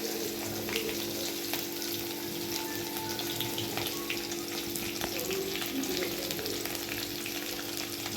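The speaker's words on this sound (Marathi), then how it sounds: "तेल तापून घेतलेले आहे लसूण लाल करून घेणार आहे" Garlic frying in hot oil, a dense continuous sizzle with a low steady hum beneath and occasional small crackles, close and even throughout with no talking.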